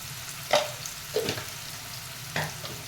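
Mutton curry pieces with turmeric, onion and green chili sizzle quietly in a pan, broken by three sharp stirring scrapes, with no talking.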